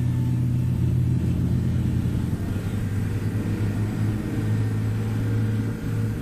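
A military vehicle moves forward to the head of a REME anniversary vehicle parade at Sennelager in 1992, a steady low engine rumble rising slightly, sounding fairly close and continuous with no voices.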